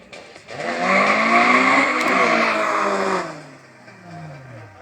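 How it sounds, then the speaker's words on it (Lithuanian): Honda Civic and Volkswagen Scirocco drag racing cars accelerating at a drag strip, engines revving up loudly with rising pitch for a few seconds before fading as they pull away. "Kairėje pusėje 104 numeris Marius Stankevičius, Honda Civic."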